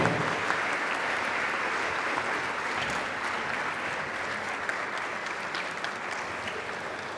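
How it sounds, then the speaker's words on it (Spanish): Audience in a school event hall gives a sustained, loud round of welcoming applause, dense steady clapping from a large crowd throughout with no pause. "Un aplauso de bienvenida"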